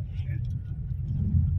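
Steady low engine rumble heard from inside a car on the road to the airport, continuous and fairly close, with a voice briefly audible over it.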